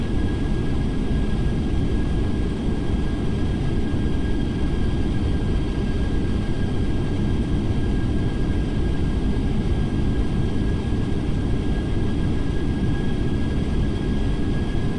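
Inside a Jet2 passenger jet on its second landing approach into Stansted, a loud, steady cabin roar of engine and airflow rumbles with a faint high whine and never lets up.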